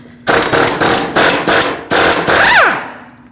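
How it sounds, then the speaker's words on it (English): A power impact wrench with a 30mm 12-point socket hammers in several loud bursts on a Lexus IS250 front axle nut, then a whining spin-down as the nut comes loose, close by. "let's put a 30mm 12-point axle nut socket on and pull this nut off"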